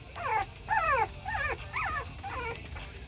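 Small kennel dogs whining and yelping in a series of five or six high, quavering cries, close by over a low background rumble.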